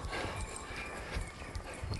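Horse hooves clip-clop and shuffle on the ground while a young horse works cattle, a busy outdoor sound with irregular thuds.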